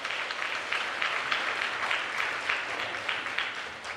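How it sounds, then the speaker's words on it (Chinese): A church congregation applauds its orchestra, conductor, accompanist and choir at an Easter service, a steady wash of clapping from many hands, moderately distant and holding evenly throughout. "我们再次给我们的乐团、我们的指挥司琴圣歌队拍手"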